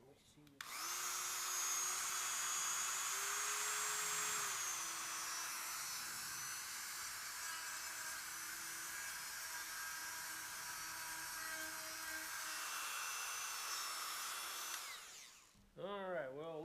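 A Dremel rotary tool grinds a burr off the wheel hub of an Oliver 1365 tractor, a loud, continuous high-pitched whir running about fourteen seconds with slight pitch dips under load, then stopping abruptly before a voice speaks.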